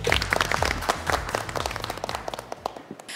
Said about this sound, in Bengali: আমরা সবাই সবার জন্য জোরে একটা হাততালি দেই।